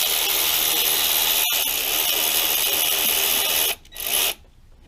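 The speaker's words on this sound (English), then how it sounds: "Just take your ratchet and just loosen those guys right up." Power tool whirs steadily, loosening 10mm screws on the coil pack of a 2005 Dodge Ram 5.7 Hemi, a continuous close buzz with a brief click near the start, stopping and starting again before cutting off.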